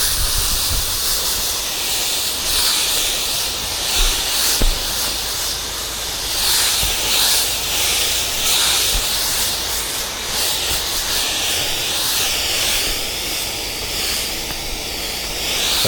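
A pressure sprayer applies a secondary coat of cleaner to a house roof, giving a steady, loud hiss of spray that runs without a break for the whole stretch. No voices are heard.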